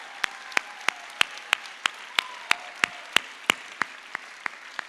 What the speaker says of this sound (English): I just want to give a special round of applause for Kristen